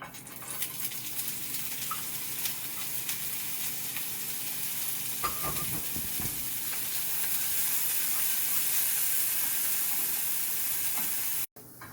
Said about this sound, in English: Okay, so I have my corn cooking.